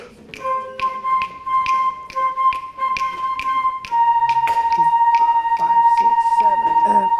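Middle school band flutes play a high-pitched melody, sustained bright tones over sharp rhythmic taps that keep a steady beat, fairly loud and close, with the flute line growing fuller and continuous in the second half.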